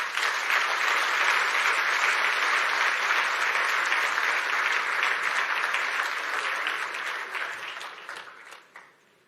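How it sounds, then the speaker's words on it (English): Sustained applause from a business forum audience in Nairobi, dense and loud for most of its length, then thinning and fading out over the final second or two. "A round of applause for Waziri Moses KURIA."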